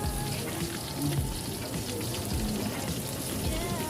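Calamari deep-frying in oil at a Filipino street food stall, a dense continuous crackling sizzle at steady close volume, with faint stall noise behind it.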